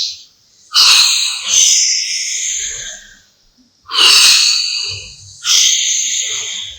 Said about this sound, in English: Same ending, cleansing breath.